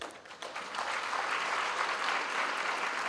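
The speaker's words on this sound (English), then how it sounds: "I'm sure this needs a round of applause" A graduation audience at a university ceremony breaks into loud, sustained applause that swells after a quiet start and fills the hall with no one speaking.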